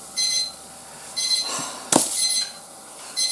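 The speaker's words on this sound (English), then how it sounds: "that's my 15-minute timer" A 15-minute timer going off in a workshop, sounding as repeated bursts of high electronic beeping in a steady rhythm, with a sharp clink or knock in between.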